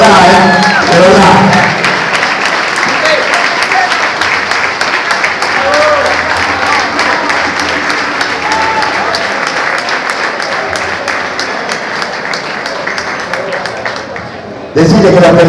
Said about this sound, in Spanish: Así que fuerte el aplauso para ellos